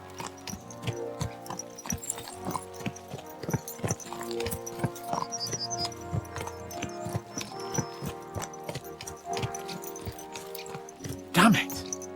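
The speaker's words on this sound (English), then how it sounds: "Let's really spur these horses on, eh?" Horses clip-clopping at a quick pace in Kingdom Come: Deliverance II, steady hoof beats close by under game music, with a brief louder burst near the end.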